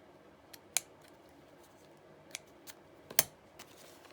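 Scissors trim paper for a junk journal: a few quiet, close snips spaced irregularly over a faint background, with no talking.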